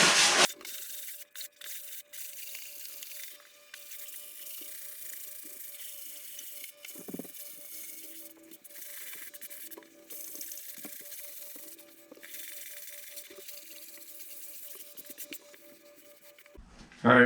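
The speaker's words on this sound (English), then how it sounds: "we're just going to start sanding gently" Sanding sponge rubbing over a drywall patch, a steady gentle scrubbing with repeated short strokes close by, continuing alone for most of the stretch with a faint tonal hum underneath.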